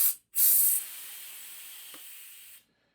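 A Pistelle X-68 gun vents gas in a loud, sharp hiss lasting about a third of a second, then a softer steady hiss trails off for roughly two seconds before cutting out.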